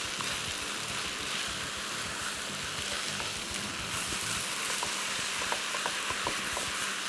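Masala sizzles and fries steadily on a high flame while being stirred and mixed in a pan, a dense continuous crackle with faint scraping taps of the spoon throughout.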